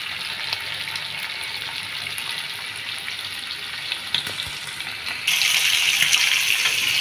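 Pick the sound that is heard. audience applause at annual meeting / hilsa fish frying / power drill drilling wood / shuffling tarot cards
hilsa fish frying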